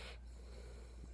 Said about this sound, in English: I could hear him snoring again in the background